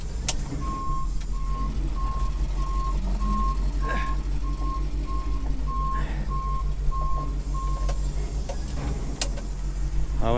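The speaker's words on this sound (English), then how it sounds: "Now we got a backup alarm that didn't work before" A Chevy scissor-lift dump truck backing up sounds its reversing alarm, a steady series of evenly spaced electronic beeps over a low idling engine rumble, with a few clicks and knocks around it.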